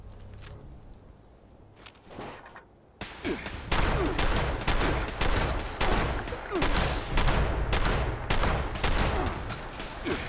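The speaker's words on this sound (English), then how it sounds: "Okay, let's try a shotgun." Rapid shotgun blasts in Fallout 76, a quiet stretch of a few seconds giving way to a loud string of sharp, evenly spaced shots fired close up, one after another.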